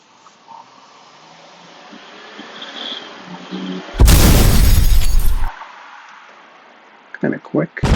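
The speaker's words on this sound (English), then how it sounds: "let's see if we got an explosion" A stock explosion sound effect bursts in loud and sudden, a broad roaring blast lasting about a second and a half before cutting off, with quiet room tone before it and brief talk afterward.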